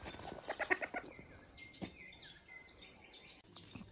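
Young chickens hatched from bought eggs in an incubator cluck in a quick series of close calls, followed by fainter chirps and peeps.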